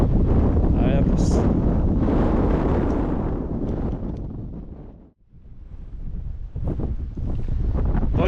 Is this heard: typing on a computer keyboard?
no